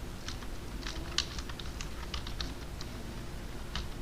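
Keys tapped on a computer keyboard while a batch file name is entered, a quick, faint, irregular run of clicks over a steady low background hum.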